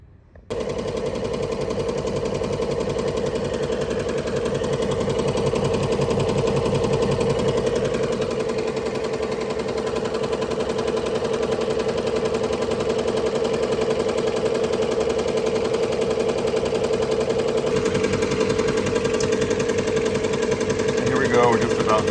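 Industrial embroidery machine stitching custom Diamond Back BMX pads, a steady loud mechanical chatter with rapid repetitive needle strikes and a constant motor hum running unbroken throughout.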